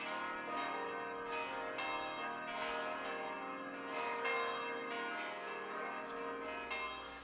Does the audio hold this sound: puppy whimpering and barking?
no